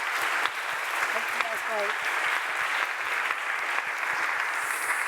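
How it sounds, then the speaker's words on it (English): Audience applause at the close of a general meeting session for the final speaker, a steady dense clapping that fills the room with a brief spoken remark over it. "another round of applause for our final speaker"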